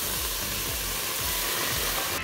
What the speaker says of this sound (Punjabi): ਹੁਣ ਜਿਹੜਾ ਨਾ ਸਲੋ ਸਲੋ ਇਸਨੇ 'ਚ ਪਾਉਣਾ ਦੁੱਧ